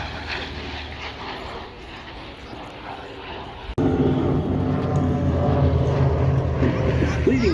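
Fighter aircraft flying at the Duxford Battle of Britain air show, a continuous broad engine roar that swells sharply halfway through and stays loud and close.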